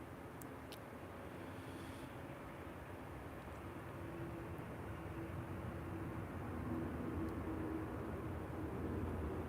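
An Airbus A320 airliner at Minneapolis–St. Paul (MSP) airport makes a steady, broad jet roar heard from a distance, swelling slightly louder toward the end, with no talking.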